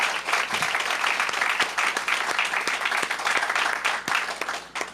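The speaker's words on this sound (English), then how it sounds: "So let's give Mayor Bowser a round of applause for all her work" A ceremony audience at a ribbon cutting claps for Mayor Bowser, a dense, loud and sustained burst of applause from a crowd in a room, with no speech over it.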